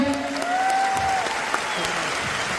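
Audience applause for a company managing director at a corporate gathering, a steady wash of clapping for a few seconds that rises at the start and holds to the end, with a voice carrying over it.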